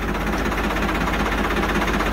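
A tractor engine runs steadily during a hydraulic lift test, giving a loud, continuous low rumble with a constant idling throb and no talk over it.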